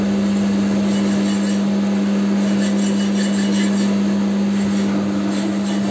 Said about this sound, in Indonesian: Amplas pakai kikir.